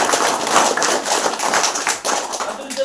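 An audience of teachers and parents at a school program claps in dense, loud applause, a rapid patter of many hands that continues throughout, with a voice faintly underneath.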